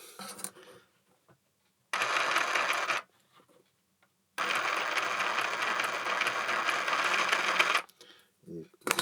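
Dewalt DSC367 cordless reciprocating saw running in two bursts, a rapid buzzing reciprocating rattle, the second run longer and steady, with brief quiet gaps and faint handling noise between.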